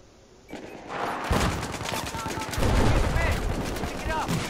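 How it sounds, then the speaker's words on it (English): Shotgun fire in the shooter game Battlefield 4 on the Operation Locker map, with repeated loud blasts and a burst of gunfire over dense game noise from about one second on. "Definitely time to shotgun."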